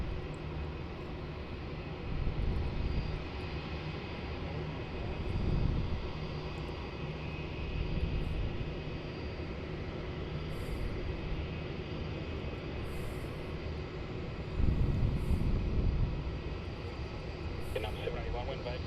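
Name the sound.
Vietnam Airlines plane at Melbourne Airport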